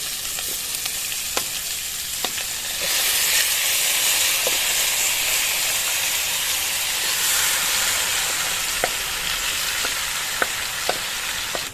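Marinated chicken hits toasted masala in a karahi for a Punjabi-style chicken karahi, setting off a loud, steady sizzle that surges up and holds. Occasional sharp pops and clicks sound over the hiss, with no talking.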